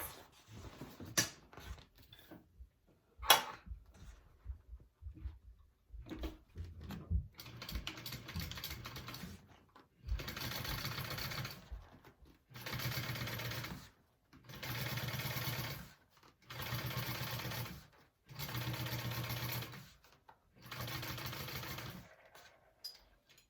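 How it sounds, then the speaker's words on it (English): A sewing machine top stitches a quarter-inch seam along a unisex tote bag, with scattered clicks first, then five even bursts of steady whirring separated by short pauses, close and loud. "we are going to top stitch along here at a 1/4 inch seam allowance"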